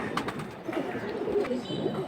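Pigeons cooing in a pair kept for sale, soft repeated low coos close by over a faint background hum, with some light rustling.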